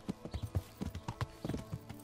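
Horse hooves clip-clop in a quick, uneven rhythm in the video game Kingdom Come: Deliverance, a steady series of close, muffled thuds with no talking.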